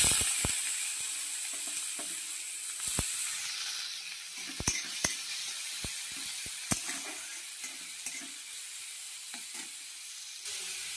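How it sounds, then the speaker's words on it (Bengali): Chopped onions sizzle in hot oil in a pan, a steady bright crackling hiss broken by scattered sharp pops and spatters throughout. "এবার আমি তেলের মধ্যে পেঁয়াজগুলো দিয়ে দেবো"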